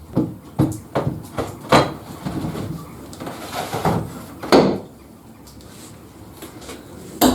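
Workshop sharpening station and table being packed away, a run of sharp wooden knocks and thuds like cupboard and sliding doors closing, spaced irregularly, with a louder bump near the end.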